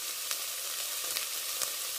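Tomato paste fries in a pan with corn for a quick pizza soup, giving a steady close sizzle and hiss with a few sharp crackles and pops, no voices.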